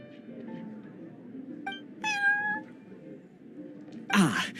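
Prince, a cat in Genshin Impact, gives a few short meows and a rising whine over soft background music, ending with a brief clink-like burst.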